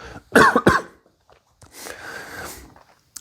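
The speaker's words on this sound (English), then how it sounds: "let me cough for a moment" A couple of sharp, close coughs in quick succession, followed by a quieter breathy throat noise trailing off.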